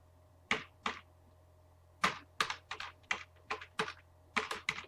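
Quiet clicks of keys being struck on a computer keyboard, in short irregular bursts with brief pauses between them, close by.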